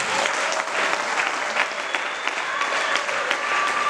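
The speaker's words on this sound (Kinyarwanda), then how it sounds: "wakomera Imana amashyi ko" A church congregation claps for God during a service, a dense, steady wash of applause from many hands that fills the room, with faint voices mixed underneath.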